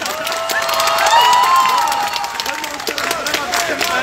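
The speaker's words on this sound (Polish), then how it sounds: "Jeszcze raz brawa dla naszych cudownych helperów!" An audience at a cosplay contest claps and cheers for the stage helpers, a steady wash of applause with scattered shouts and whistles, loud and close.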